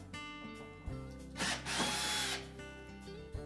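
A cordless power drill backs out the rear mounting screws on a KitchenAid wall oven cooling blower, giving several close, loud whirring bursts with a ratcheting clutch rattle and short pauses between runs.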